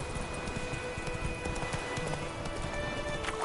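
Rhythmic clip-clop of horse hooves galloping in a video game, moderately loud and steady over a faint ambient bed.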